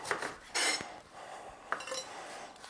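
Kitchen knife trimming the top and bottom ends off onions on a board, heard as a few sharp close chops and scraping clinks with quiet gaps between, no talking.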